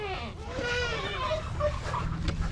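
Goats bleat on a farm several times, fairly close and in short wavering calls, with low background noise and a person nearby.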